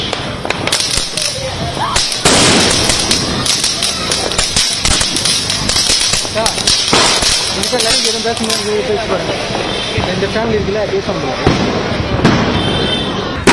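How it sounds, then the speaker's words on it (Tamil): Rapid, continuous bursts of Diwali firecrackers pop and crackle loudly, with voices and crowd noise mixed in throughout. "மக்கள் பட்டாசு வெடித்து கொண்டாடினர்."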